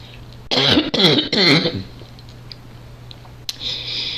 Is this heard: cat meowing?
no